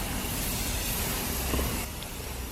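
A continuous, close hiss like an aerosol spray runs throughout, briefly dropping in intensity near the end.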